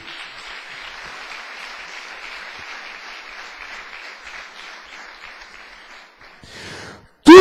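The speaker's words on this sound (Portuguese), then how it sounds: "Quem pode dar uma salva de palmas para o Senhor Jesus?" Church congregation applauding in praise of Jesus during a sermon, a steady wash of clapping that holds for several seconds, then tapers off before a short loud burst at the end.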